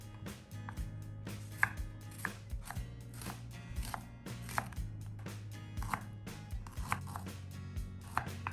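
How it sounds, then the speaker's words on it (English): A knife cutting through garlic, onion and ginger on a board, a steady series of close, crisp chops at roughly even pace, with a low hum underneath and no talk. "Cut a head of garlic and 1 onion into thick slices,"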